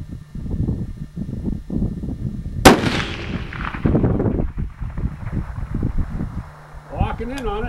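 One loud, sharp crack from a home-made sniper rifle fired at an outdoor range for 1200-yard shooting, ringing out and decaying over about a second, with someone talking before and after amid wind noise.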